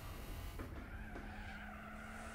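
Race car tires skid and squeal under late braking in Gran Turismo 4, a short screech over engine noise lasting about two seconds, with no talk.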